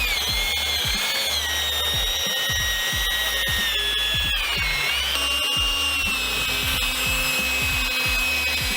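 A power drill runs continuously, sanding a plastic car headlight during a Meguiar's two-step restoration, with a steady whining tone that shifts pitch midway and a rough, scraping rub underneath, close and alone.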